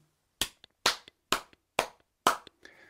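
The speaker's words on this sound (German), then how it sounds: "Ich mache das einfach immer durch Hände klatschen, wie ich das jetzt zum Beispiel mal mache." Five sharp, evenly spaced hand claps ring out close and loud in a quiet room, each a crisp isolated burst, followed by a faint rustle.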